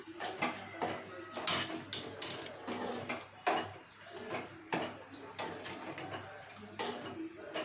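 A spoon scrapes and knocks around a pot of sardine dry fish curry, with rhythmic stirring strokes and metallic clatter at close range.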